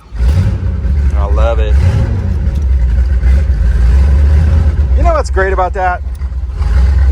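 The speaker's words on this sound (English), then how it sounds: "Let's fire this thing up." A carbureted big-block V8 in a 1971 Corvette Stingray convertible rumbles loud and close, holding a steady, deep idle throughout while people talk over it.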